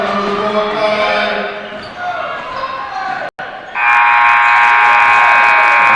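At a high school basketball game, a ball bounces amid gym noise before a long, loud electronic buzzer sounds to end the period, with a commentator talking over it.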